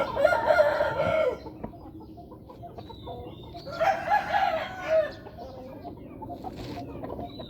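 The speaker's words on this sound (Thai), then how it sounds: "ไก่ก็ลอยแล้วไล่กันแล้วครับ" Chickens clucking, squawking and crowing at a Thai yard, with bursts of flapping and chasing. The loud, agitated calls come in two clear clusters separated by quieter scuffling.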